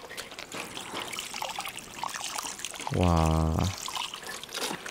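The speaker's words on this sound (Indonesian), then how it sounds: "Kita bilas dia lagi. Sebab air darah ni, darah daripada daging tu banyak sangat tau." Water trickles and pours over raw meat being rinsed of blood, a steady wet stream under a voice, with a brief louder tonal burst partway through.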